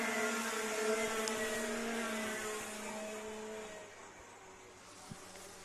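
Racing go-karts drive through a corner at an Ipswich race meeting, their engines a droning whine that is fairly steady and gradually fades as they pull away.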